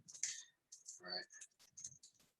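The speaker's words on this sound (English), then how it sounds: "I'm just typing the chat in first." Light clicking of a computer keyboard as someone types a chat message, quick irregular keystrokes with a faint voice murmuring in the background.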